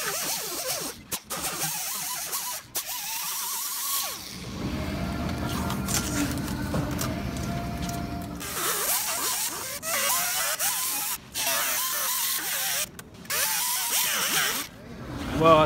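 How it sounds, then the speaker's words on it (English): A hand file scrapes over a plastic KTM 1190 Adventure R front fender in repeated close rasping strokes with short pauses. "Go ahead and take a file to it, make it look all pretty."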